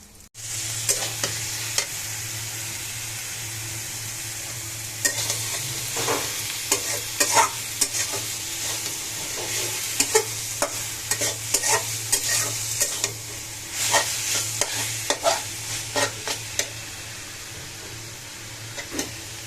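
Mixed leafy greens (shak bhaji) stir-frying in a pan: a continuous close sizzle with a low steady hum beneath, punctuated by frequent sharp scrapes and clacks of a spatula tossing the leaves, no talking.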